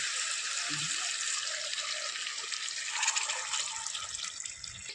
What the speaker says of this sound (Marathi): आता आपण वरून पाणी टाकून घेऊया